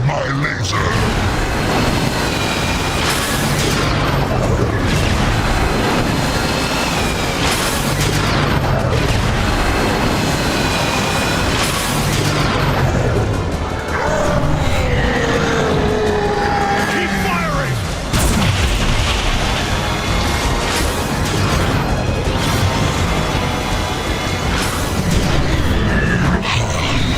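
Missile blasts in the Transformers: War for Cybertron video game, a loud barrage of booming impacts and bursts over a dense battle din, with whooshing and sweeping effects in the middle.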